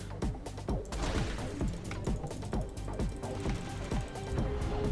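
Rapid laser gun fire in the video game Scrapland, a dense run of repeated sharp shots with thuds and crashes over a steady game soundscape, loud and close throughout.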